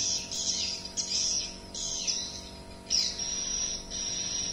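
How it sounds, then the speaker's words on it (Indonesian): High, thin swiftlet (edible-nest swiftlet) chirps come in short repeated bursts over a steady low hum, fairly faint and somewhat distant. "beberapa karakter suara yang dihasilkan burung walet di saat terbang maupun melengket di sirip"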